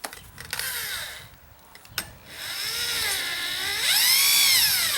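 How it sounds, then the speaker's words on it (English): Power drill boring a hole while a security screen door is installed, the motor whining and rising and falling in pitch as it bites in and eases back, loud and steady with brief pauses early on. "I drill in a little bit and then pull it back out"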